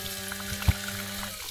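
Water pours from a camping water container outdoors in a steady, light trickle, with a soft thud partway through and no voices.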